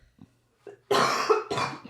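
A couple of soft throat sounds lead into two loud, close coughs in quick succession.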